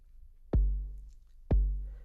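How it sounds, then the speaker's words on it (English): Two deep, booming 808-style kick drum hits played alone in Cubasis 3 on iOS, evenly spaced about a second apart, each with a punchy attack and long low decay. "I really like this kick drum sound."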